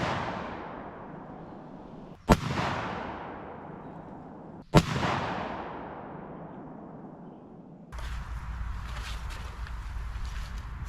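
Two sharp, loud 12-gauge shotgun blasts firing Foster slugs at an outdoor range, aimed at a target 50 yards away, a few seconds apart. Each crack rings out and decays into a long echo before the open-air background returns.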